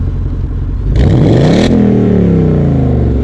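A 2020 Ford Mustang GT 5.0 V8 with the exhaust in normal mode revs up in one quick loud blip, then settles into a steady, close idle rumble.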